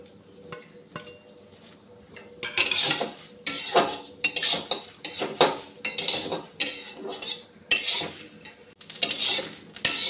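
Dried red chillies and fennel seeds are stirred in a pan for tamarind pickle. After a quiet start, repeated bursts of metal spatula scraping and clinking follow, close and fairly loud, with no talk.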